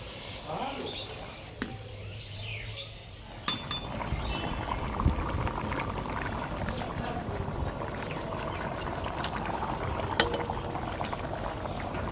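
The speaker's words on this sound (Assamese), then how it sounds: "এইফালে জিকা আৰু বিলাহী একেলগে বনাইছোঁ মানে। খুব ধুনীয়াকৈ ভাজি লৈ সিজাই ল'ম।" Ridge gourd and tomato fry together in a pan, giving a steady, dense sizzle and bubbling with a few sharp clinks of utensils along the way.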